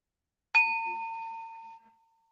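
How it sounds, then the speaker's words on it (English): A small tuning bell is struck once, giving a clear, pure ring with bright overtones that sustains for over a second before fading into silence, heard alone. "I'll just close out with a little tuning bell."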